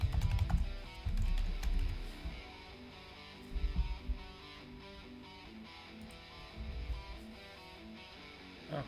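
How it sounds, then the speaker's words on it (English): Continuous typing on a computer keyboard, a steady patter of key clicks with small bursts of louder strokes, close and alone for nearly nine seconds. "Here, let me type it in."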